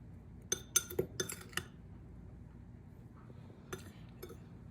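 A metal spoon clinks against a bowl while powdered sugar is spooned in for kunafa with cream, giving a few sharp, close taps in a quick cluster, then a pause and two softer clinks.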